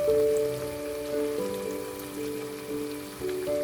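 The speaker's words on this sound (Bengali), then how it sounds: "চিকেনগুলো ভাজা," Marinated chicken pieces fry in oil for a quick chicken curry, a dense steady crackling sizzle like rain, with faint tonal hums underneath and no talk.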